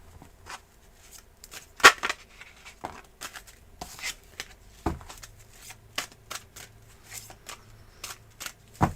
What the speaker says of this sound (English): Alrighty, here we go with your 6 official shuffles.